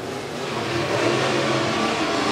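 Super stock race cars accelerating together at the start of an 8-lap heat race at Crossville Speedway, a dense roar of engines swelling louder over a couple of seconds.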